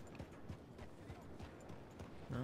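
Steady clip-clop of horse hooves trotting at a regular pace in the video game Red Dead Redemption 2, with a brief tonal sound near the end.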